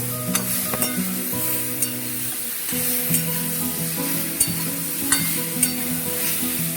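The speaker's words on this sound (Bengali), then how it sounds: "এটা এবার একটু ভেজে নেবো ভালো করে। হালকা ব্রাউন করে ভেজে নেবো।" Soya chunks fry in hot oil until lightly browned, a steady close sizzle with occasional clinks and scrapes of a spatula stirring them around the pan.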